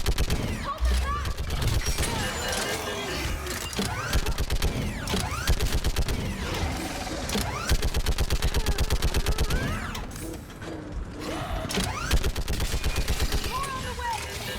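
Sustained gunfire in the Mass Effect 3 video game, with rapid machine-gun-style bursts and a heavy turret-like rattle that dominates most of the stretch, while soldiers shout orders over the shooting.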